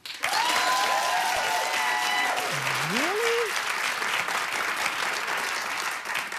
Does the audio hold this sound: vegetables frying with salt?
no